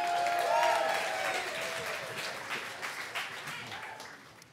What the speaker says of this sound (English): Big round of applause for Jesse.